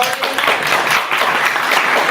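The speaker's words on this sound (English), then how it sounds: "a round of applause for our audience" An audience applauds, a steady, dense burst of clapping filling the room for a couple of seconds.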